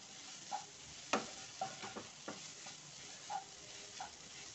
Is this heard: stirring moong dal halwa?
yes